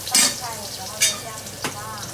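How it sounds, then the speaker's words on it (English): Minced garlic sautéing in hot oil in a wok over low heat, with a steady close sizzle broken by three brief stirring scrapes, no voices. "add half the minced garlic and sauté quickly over low heat until fragrant"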